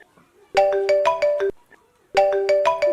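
A mobile phone rings with an incoming call, two bursts of a bright, repeating electronic melody sounding loud and close, separated by a short pause.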